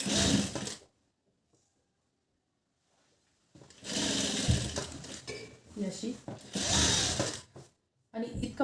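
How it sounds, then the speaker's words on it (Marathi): A sewing machine stitches fabric lining in three loud, close runs of rapid mechanical whirring, separated by short pauses of near silence. "सुरुवात तुम्हाला टिप मारायला सुरुवात इथून करायची"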